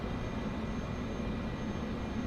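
A Cessna's engine drones steadily as it taxis under reverse throttle in a flight simulator game, a faint, even broadband hum and rumble with no talking.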